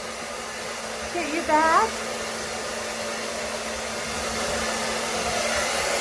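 A hair dryer runs at a steady hum to dry a parrot after a shower, with a brief spoken line near the start over the drone.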